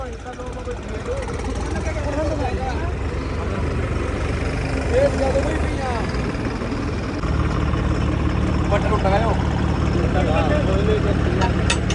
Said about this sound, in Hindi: अपना ट्रैक्टर करेगा भाई काम।